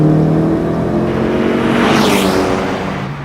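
Turbocharged car engine revving hard through a test pull after a new wastegate actuator was fitted, a loud steady roar with rising whine that stays strong for the whole stretch and eases slightly at the end.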